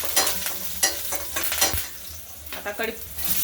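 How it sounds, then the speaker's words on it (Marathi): Garlic and curry leaves frying in hot oil with green chillies in a pan, a loud close crackling sizzle broken by repeated bursts of stirring and spatula scrapes. "लसण छान परतून घेऊन कढीपत्ता घालून घ्यायचा."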